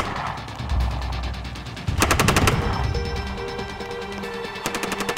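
Incoming gunfire strikes an infantry unit in a military scenario: bursts of rapid automatic shots crackle loudly, first a dense volley, then a later clustered burst, over a steady rumbling background.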